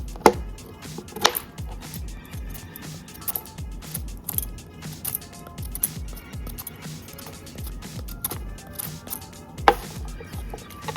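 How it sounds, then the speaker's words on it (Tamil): A knife chops cassava in a steady series of sharp, close thuds, each with a short crisp attack, repeating rhythmically on a hard surface. "இந்த கடைசி பகுதியை நறுக்கிக்கோங்க"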